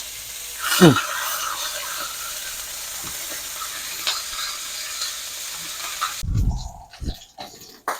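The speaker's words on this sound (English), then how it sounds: "We're just going to sear it on both sides here, about for a minute apiece." Garlic butter steak bites sear in a hot pan with a continuous close sizzle, a sharp clank near the start and clunky handling thumps toward the end.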